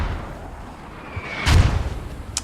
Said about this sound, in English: There's mortars now